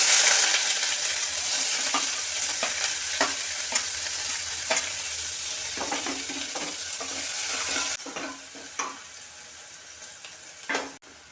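Onions sizzle loudly in hot oil with mustard seeds and cumin as a spoon scrapes and stirs the pan in a steady, uneven rhythm. The frying is close and continuous, easing slightly near the end, with no talking.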